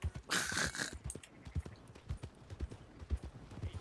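Horse hooves clip-clop in a steady walking rhythm in the video game Red Dead Redemption 2, quiet and close, with a brief whooshing burst near the start.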